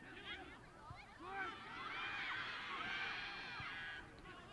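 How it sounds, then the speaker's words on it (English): Crowd at a men's college soccer match, Loras versus Wartburg, a steady roar of distant voices with shouts and whoops rising and falling over several seconds. "A lot of noise coming from that crowd."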